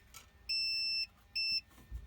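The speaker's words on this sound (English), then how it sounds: "as soon as I close the points, it flows and you get the beep." A continuity tester on a vintage ignition system with points, beeping as the points close: two clear, steady electronic beeps, each about half a second long, against faint background noise.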